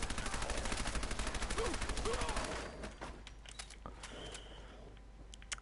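Gunfire in a modded Fallout 4 game, rapid repeated shots in a steady burst that stops partway, followed by quieter scattered game sounds.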